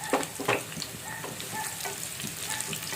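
Sliced onions and green chillies fry in hot oil with tempering seeds for a potato curry, giving a steady close sizzle punctuated by a few sharper crackles and stirring scrapes.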